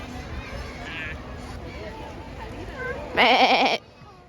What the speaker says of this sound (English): sheep, not goats